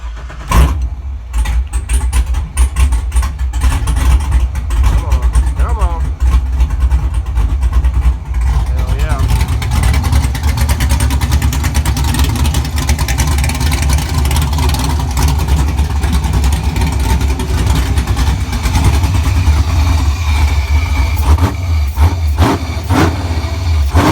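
A swapped car engine runs near the microphone with no alternator plugged in. It makes a continuous, loud mechanical rumble with some revving and clattering, and voices can be heard over it.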